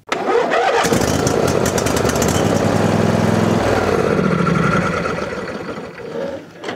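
A Yamaha outboard engine cranks hard on a lithium cranking battery, a loud, steady churning whir of the starter that holds for about four seconds before easing off as the motor winds down.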